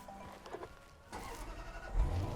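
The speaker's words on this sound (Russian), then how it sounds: "Так, запустим двигатель. Запуск происходит с нажатия вот этой кнопки." A 2019 Range Rover SVAutobiography long-wheelbase with its 5-litre, 565 hp engine starting: quiet cabin ambience, then the engine cranks and catches into a deeper, close low rumble near the end.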